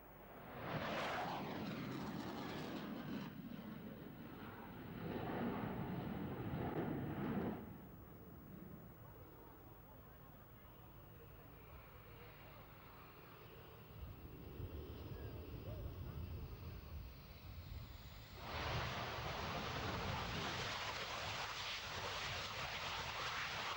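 A swing-wing jet with its wing swept fully back roars past at a 1991 air show, a loud broadband rumble that swells and fades twice with a quieter stretch between.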